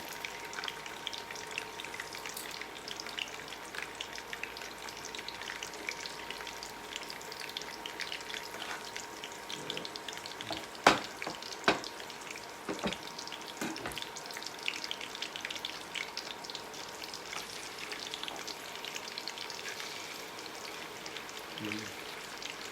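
Tofu and tempeh frying in hot, spattering oil in a home kitchen: a dense, continuous crackling sizzle like light rain, fairly quiet and close, with a few sharper pops scattered throughout.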